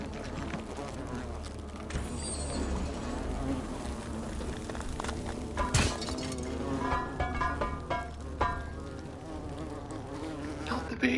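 Bees buzz in The Forgotten City video game, a dense, steady swarm drone that fills the whole stretch, with a few faint clinking touches and no talk.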